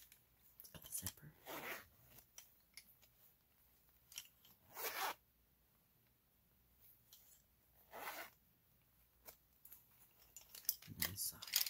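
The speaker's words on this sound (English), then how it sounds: "It's got the zipper." Short pencil case zipper pulls come in separate bursts, quiet and close, with small clicks and rustles between them.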